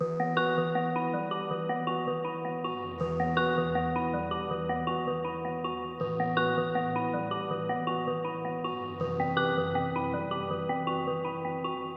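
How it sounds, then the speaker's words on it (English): A synth plays sustained root notes in a sample-based melody, with short pitch slides between them, dry and unprocessed, shifting every few seconds with steady loudness and no voices. "I used the synth sound from the same pack, which is pretty much playing root notes again with like little slides in between"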